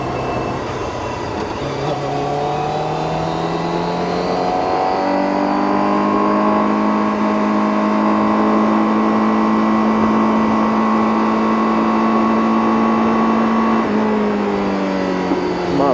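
A Honda CBR1000RR-R Fireblade SP sportbike engine revving in first gear on a winding mountain road, its loud, smooth howl climbing in pitch, holding high, then easing off near the end.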